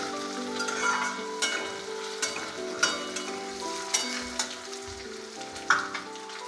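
Boiled potato being stirred and fried for Indori poha, with a continuous close sizzle broken by regular spoon scrapes and knocks against the pan, no talking.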